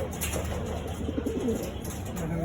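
A pigeon coos softly in a short rolling phrase, fairly close, over a steady background hum with no talking.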